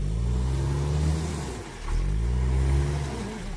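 A tractor engine revs up twice in low, rumbling surges, easing off briefly between, as its tires spin without grip.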